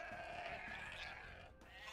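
Sheep bleating in the Age of Empires II Definitive Edition video game, a drawn-out wavering bleat heard close and clear above a low background of game ambience.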